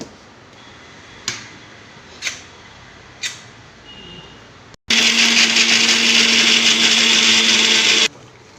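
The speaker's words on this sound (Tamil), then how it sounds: "தேங்காய் சீரகம் அரைச்சிருக்கேன்" Three sharp taps and a short pause, then a home mixer grinder grinding coconut and cumin starts loud and close, whirring steadily for about three seconds before cutting off abruptly.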